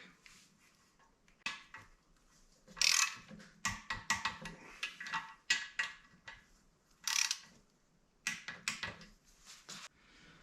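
Bolting the Ford IAC onto a Fox Body Mustang during a Holley Terminator X install brings a series of close metallic clicks and rattling tool sounds, such as ratcheting and handling bolts, in irregular bursts.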